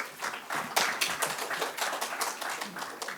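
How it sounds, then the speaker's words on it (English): Applause from a conference crowd at the Jio World Convention Centre, a dense patter of many hands clapping steadily throughout, fairly close. "Please have a huge round of applause for him."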